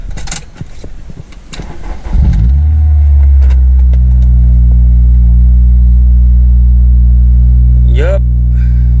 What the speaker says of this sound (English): I'm about to turn on the car